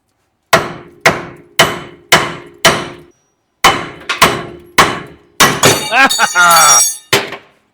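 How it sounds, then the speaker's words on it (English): A hammer strikes metal on a truck's suspension while a pry bar levers on it, a run of about a dozen loud, sharp, evenly spaced blows with a brief pause, plus a metallic scrape near the end. "you pry up on it whilst whooping on it with a hammer"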